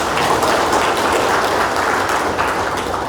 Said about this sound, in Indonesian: Jadi sekali lagi kita aplaus dulu Pak Yandi.